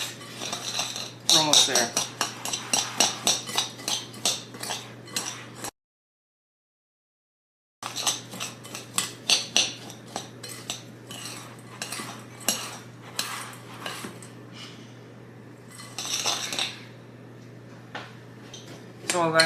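Ingredients for a strawberry pretzel salad mixed in a bowl, a utensil rapidly clinking and scraping against the dish in repeated bursts, with a brief silent gap and a voice speaking over it.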